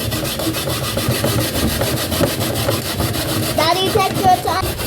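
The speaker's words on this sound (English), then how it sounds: "coconuts, old traditional grater" Coconut being scraped on an old traditional grater with a rough edge gives a steady, close rasping rub with repeated strokes, and a few brief voices come in near the end.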